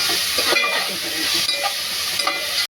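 Tomatoes frying in a pan for chicken biryani, a loud, close, continuous sizzle and hiss with a few stirring scrapes and clinks that cut off abruptly at the end; no one talks.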